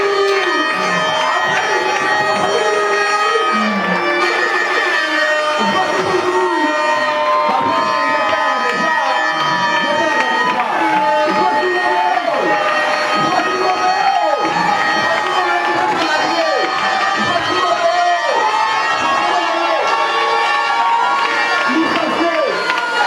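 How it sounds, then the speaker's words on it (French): A large crowd at a graduation celebration cheers and shouts loudly and continuously, with many voices blending into a dense, energetic roar that does not let up. "Applaudissez pour lui."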